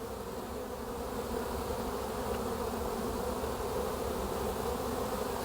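Honey bees fly around a backyard hive during a spring inspection, making a continuous, even buzzing drone that stays fairly close and steady throughout, with no other sounds.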